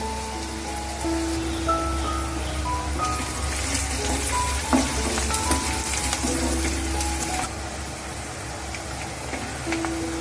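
Onion frying in a pan for a spicy dried bombil fish curry, a continuous crackling sizzle with scattered pops and occasional stirring, close and steady throughout.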